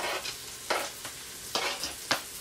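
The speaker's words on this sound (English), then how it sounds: "Here we're gonna saute our vegetables." Spinach and mushrooms sauté in a hot pan alongside sausage, a steady sizzle broken by four or five sharp stirring scrapes, close and fairly loud, with no voices.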